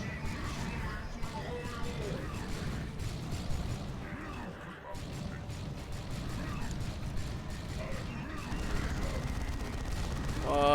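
Heavy assault cannons fire in rapid bursts during a Dawn of War 2 Retribution battle between Dark Angels and Death Guard, dense and continuous, with explosions and impacts over a busy low rumble.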